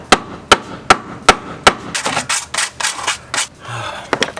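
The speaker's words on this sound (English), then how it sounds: "I'm just gonna hammer this down as much as possible" Hammer pounding down metal on a Jeep Patriot, a run of sharp evenly spaced strikes followed by quicker, denser knocks, close and loud with no talk.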